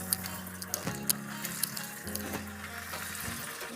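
Potato cheese rolls frying in hot oil, a steady low bubbling with light crackle and a few sharp pops, heard close and alone.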